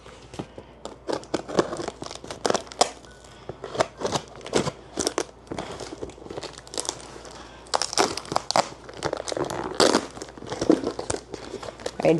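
Padded delivery package holding a comic book being opened, with close, busy crinkling, crumpling and tearing of packing material in irregular bursts, no talk.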